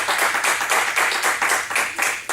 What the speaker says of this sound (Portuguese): Pode aplaudir o Senhor em nome de Jesus.